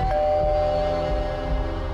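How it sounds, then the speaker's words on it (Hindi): A doorbell rings at a house door in a crime drama scene: one clear, sustained electronic chime tone that rings steadily, loud and close, with no speech over it. "उस रात हमारे घर के दरवाजे पे घंटी बजी"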